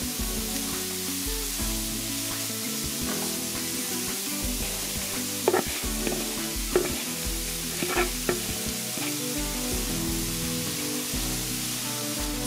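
Cauliflower fried rice frying in a pan gives a steady, loud sizzle, with a few sharper scrapes and clatters of stirring partway through, and no talk over it.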